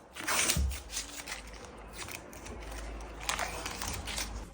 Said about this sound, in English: Pull this tape off.